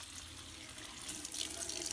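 Water pouring into a pressure cooker pot for brown rice, a continuous close splashing stream that grows a little louder and brighter toward the end, with no talk.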